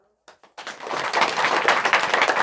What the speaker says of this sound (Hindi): एक बार सभी दीदी ताली लगाइए जोर से